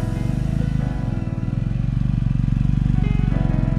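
A motorcycle ridden through fog and heavy rain on a mountain road: a continuous loud engine drone with a steady throbbing pulse, slight rises in pitch as it pulls, heard from the rider's position with no talking.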